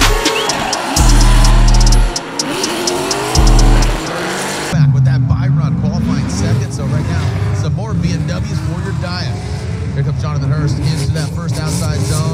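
A Formula Drift race car drifts on track during practice at FD St. Louis, its engine roaring and droning at high revs with shifting pitch, while voices talk over it throughout.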